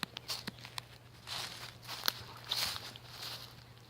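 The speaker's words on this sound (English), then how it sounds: "What's that stepping noise?" Footsteps crunch over sticks, grass and leaves on an outdoor nature walk, a handful of soft, uneven steps close by against a low steady hum.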